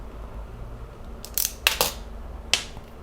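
Motor wires for a Furitek Momentum mini motor being trimmed with a cutter before soldering: three or four sharp, close snips in quick succession over a quiet room, with no talking.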